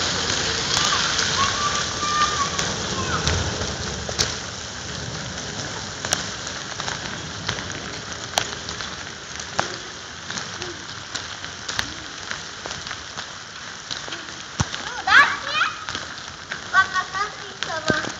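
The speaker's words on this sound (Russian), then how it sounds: "Это град, видишь, он сразу тает." Hail patters and ticks steadily on a surface in Hamburg with scattered sharper clicks, the stones melting on contact, while voices talk intermittently nearby.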